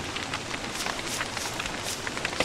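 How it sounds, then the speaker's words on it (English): Rain in a video game falls as a steady dense patter across the whole clip, even and moderately loud, with no voices over it. "This rain is worrying me."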